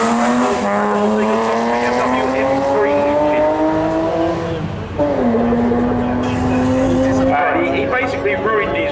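A 3-litre two-wheel-drive BMW E36 race car launches hard at a seaside speed trial, its engine screaming up through the revs, dropping briefly at a gear change, then climbing again, loud and close throughout.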